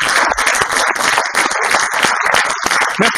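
An audience at a talk on self-knowledge and performance claps in steady, dense applause that stays loud and continuous from start to finish, with no voices over it.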